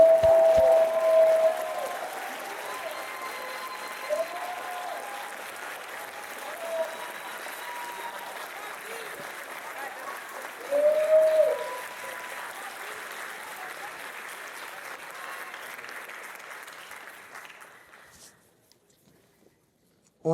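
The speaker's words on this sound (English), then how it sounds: "Let's give our youth a round of applause for stepping up." Audience applause for young volunteers at a city's State of the City address, a broad, sustained wave of clapping from a large crowd with faint voices and a whoop, gradually fading away into near silence.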